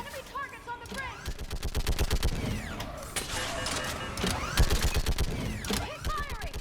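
Rapid sci-fi gunfire in a Mass Effect 3 firefight on the asari homeworld: dense bursts of sharp shots from several weapons crackle almost nonstop, loud and close, with mechanical whines between volleys.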